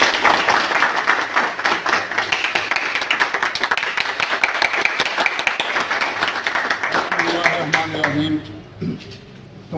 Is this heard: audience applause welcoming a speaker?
yes